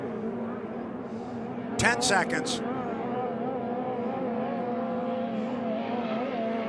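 A powerful racing boat engine drones steadily and rises in pitch as it winds up, at a hydroplane race. Someone speaks briefly over it and a few sharp clatters are heard near the start.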